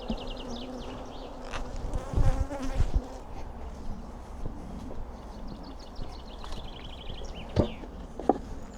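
Honeybee drones flying around a hive give a steady, close buzzing hum with a few louder passes and faint thuds, and no voices.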